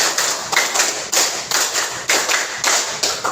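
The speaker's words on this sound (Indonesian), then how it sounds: "tepuk 5 3 kali." Rhythmic group clapping in a classroom exercise, a steady pattern of sharp claps from many hands repeating in bursts of roughly three to four beats, fairly loud and with no talk over it.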